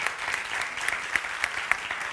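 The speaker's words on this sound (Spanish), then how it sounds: "Os voy a pedir un aplauso para ellas." Short burst of audience applause at a talk on insomnia in menopause, many hands clapping at moderate volume with a few sharper claps standing out.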